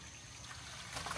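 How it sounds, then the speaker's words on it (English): Water from freshly flushed gutters trickles out at a 1970s townhome, a faint, soft, steady dribble that grows a little brighter near the end. "It's trickling."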